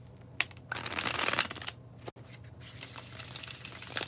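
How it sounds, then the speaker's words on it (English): A deck of cards is riffled and bridged in two quick bursts of dense fluttering, split by a brief pause, close and fairly quiet. "Here is the bridge shuffle."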